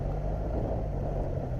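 A GSXR motorcycle engine rumbles low and steady while downshifting, a continuous close drone with no clear rev blip standing out.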